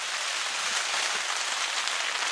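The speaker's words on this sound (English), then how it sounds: "Some blue skies, but you can hear the rain coming down right now." Steady rain coming down outdoors on a hunting trip in Arizona: a continuous, even hiss of falling drops with no voices or other distinct sounds.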